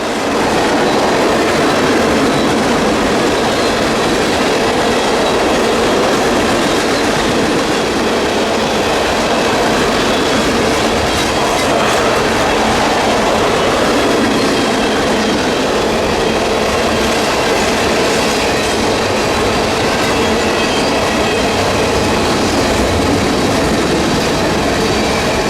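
A CSX freight train of empties out of Tampa, led by CP GE ES44AC, AC4400CWM and AC4400CW locomotives, rolls past with a loud, unbroken roar of wheels and rumbling cars, dense and close throughout.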